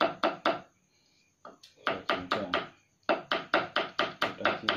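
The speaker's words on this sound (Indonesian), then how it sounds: "Cincang juga seperti yang lainnya, biar kecil-kecil guys." Chili peppers chopped with a knife on a cutting board, quick runs of sharp rhythmic knocks in bursts separated by short pauses, close and clear with no talking.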